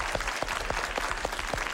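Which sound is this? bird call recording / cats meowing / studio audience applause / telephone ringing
studio audience applause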